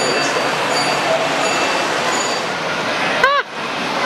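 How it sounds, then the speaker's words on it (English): A model train set runs in a Polar Express–themed layout with a steady, even rolling hum and rattle throughout, then a brief whistle-like chirp near the end. "Now this is the coolest train setup I've ever seen."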